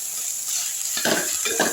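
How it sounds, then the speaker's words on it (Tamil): Onions sautéing in a pan for Tirunelveli-style fish curry make a steady close sizzle, with two brief scraping stirs near the end and no speech. "இதுவும் சேர்ந்து நல்லா வதங்கட்டும் ஒரு மூணு நிமிஷம் வதக்குனா போதுங்க"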